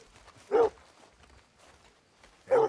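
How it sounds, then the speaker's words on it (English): An American Foxhound in Red Dead Redemption 2 barks twice, short single barks spaced about two seconds apart, fairly close, over a quiet outdoor background. "I'm gonna study this dog."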